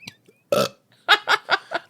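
A person burps aloud: one longer belch, a short pause, then four quick, punchy burps in a row, close and clear with nothing else around them.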